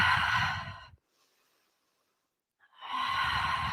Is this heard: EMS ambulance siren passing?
no